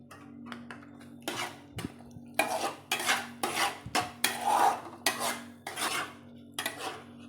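Thick pineapple halwa cooked with ghee being stirred in a pan, a spoon scraping and knocking against the metal in repeated strong strokes, close and loud with short pauses between bursts.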